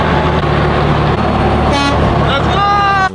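A car horn honks twice on a roadside during an early-morning drive with a Mazdaspeed3, a sharp nasal blare over steady road rumble and engine drone, loud and close.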